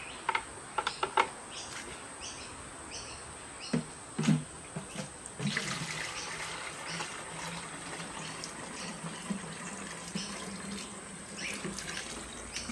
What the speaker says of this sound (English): now I've got a bucket full of fertilizer. I'll probably spill a bit. I should use a funnel for this.